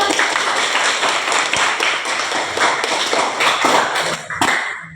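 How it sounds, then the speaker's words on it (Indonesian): Classroom applause from a group of students during a math lesson, a dense steady patter of many hands clapping close by for about five seconds before tapering off at the end. "Tepuk tangan."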